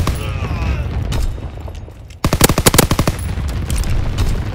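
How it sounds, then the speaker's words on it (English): Rapid bursts of anti-aircraft gunfire hammer out in a World War II game, a fast run of sharp, loud reports over a steady rumbling battle din. "Enemy anti-aircraft fire."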